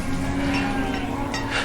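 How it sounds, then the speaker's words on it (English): A cow, with a calf among the cattle, lowing in the farming and village-building video game Banished: a single short, low moo held over faint background ambience. "Oh, we have a baby cow."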